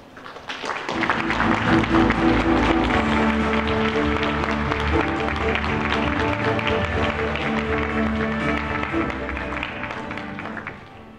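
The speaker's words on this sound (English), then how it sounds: "Will you please give a warm round of applause to Mr. Myung-Sup Han." Warm round of applause from the audience at a Samsung NX1 camera launch event at Photokina 2014, with music swelling beneath sustained clapping that fades out near the end.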